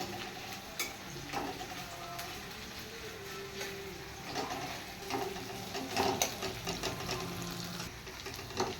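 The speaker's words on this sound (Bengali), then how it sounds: "এবার পেঁয়াজটা একটু ফ্রাই করে নে" Sliced onions sizzle steadily in a hot pan, a constant frying hiss broken by the occasional scrape and clink of a stirring spoon.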